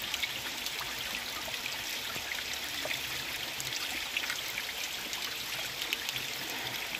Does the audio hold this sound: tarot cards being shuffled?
no